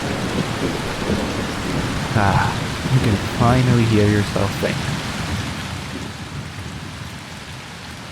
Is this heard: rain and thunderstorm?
yes